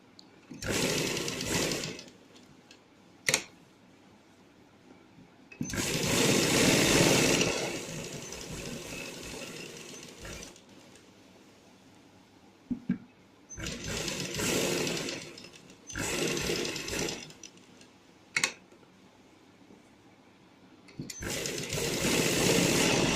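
Sewing machine stitching a neckline in several bursts of steady whirring, each a few seconds long, separated by quiet pauses and occasional clicks.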